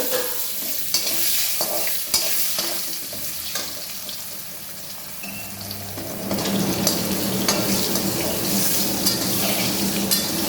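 Potatoes fry in hot oil for a katla fish and potato curry, a dense crackling sizzle with light stirring taps that swells louder and fuller partway through.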